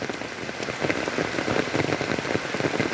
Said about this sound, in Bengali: এই দেখো ভারী বৃষ্টি হচ্ছে, আবার বাড়তেছে।